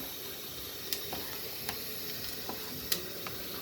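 Onions and peppers sauté in a pan for a Turkish meat and fresh okra stew. The sizzle is a faint, steady hiss, with occasional light ticks from stirring or utensils.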